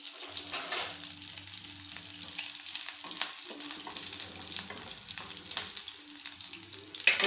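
Green chillies and finely chopped garlic frying in hot oil, with a steady soft sizzle, occasional stirring scrapes and a low background hum.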